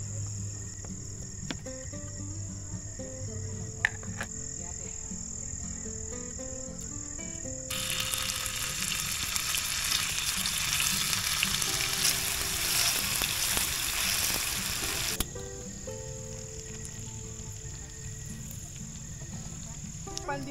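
Food sizzles in a pan at a lakeside campsite during a creators' camp event, a steady crackling hiss that swells louder midway amid insect chirping and background chatter.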